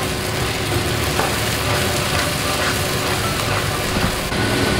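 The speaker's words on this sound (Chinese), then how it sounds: "我们用中火炒至它香哦" Food stir-fried in a wok over medium heat, a steady dense sizzle and crackle running continuously at close range with faint scraping of stirring, no voices.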